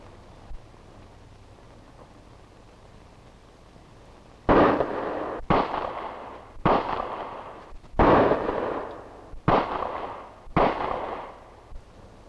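Six sharp revolver gunshots from a hair-trigger pistol with a cut-out hammer ring out at target practice, spaced about a second apart over a quiet background, each with a short echoing tail.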